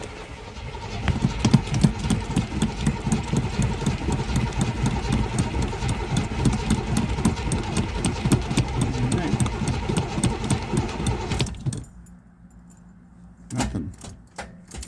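A 1972 Buick Sportwagon engine cranks without catching, with a rhythmic, chugging starter churn held for about eleven seconds, then cutting off abruptly, followed by brief clicks and a short voice.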